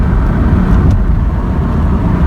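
A car being driven through a private business complex, steady loud engine and road drone heard from inside the cabin, with no other sounds on top.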